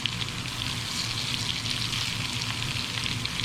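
Butternut squash and green beans sizzle in butter in a pan, giving a steady, dense crackle that stays even and close for the whole stretch, with no voice over it.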